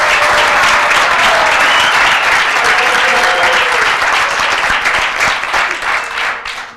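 Audience at a drone warfare symposium bursts into loud, dense applause, sustained and close for several seconds before thinning out at the end.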